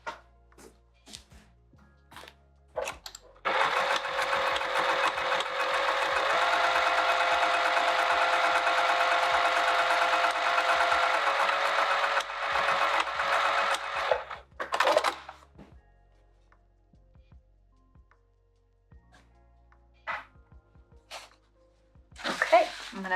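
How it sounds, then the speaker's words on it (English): A sewing machine stitches across the top of a fabric clutch in one loud, continuous run of about nine seconds, then stops, followed by scattered handling clicks and brief fabric rustles. "And let's sew right across the top here."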